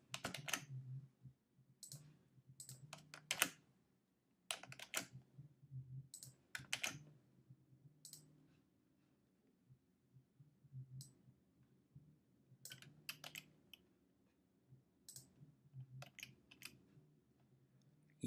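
Keys on a computer keyboard are pressed for Ctrl C and Ctrl V shortcuts, quiet close clicks in short bursts separated by pauses over a faint hum.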